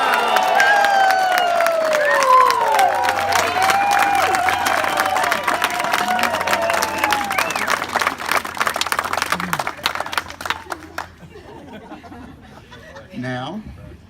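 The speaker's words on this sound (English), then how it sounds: "Luke is going to stomp on this glass. And when he does, feel free to cheer, give him a mazel tov" Wedding guests at a ceremony break into loud, sustained cheering, whoops and applause after the groom stomps on a glass, the crowd noise staying dense for about ten seconds before thinning to scattered voices and claps.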